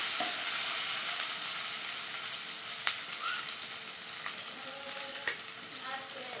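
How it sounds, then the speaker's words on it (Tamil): Spices sizzling in hot oil in a pan for Kerala-style chicken salna, a steady bright frying hiss with occasional clinks and scrapes of a spoon stirring. "கிளறி விட்டுட்டு இது கூடயே நம்ம பட்டை சோம்புகளை சேர்த்துக்கலாம்."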